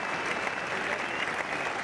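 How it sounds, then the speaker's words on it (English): A cricket crowd at Lord's applauds Phil Edmonds' fielding save during the 1986 India vs England Test. The clapping sounds steady and distant, carried across the ground. "the applause very much for Edmonds"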